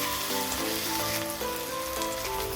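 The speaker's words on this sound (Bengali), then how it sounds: "টমেটো কুচিটা দিয়েও একটু নেড়ে চেড়ে ভেজে নিলাম।" Chopped tomato frying in a pan for cabbage jhuro, a steady close sizzle with a soft continuous crackle throughout. Faint music plays underneath.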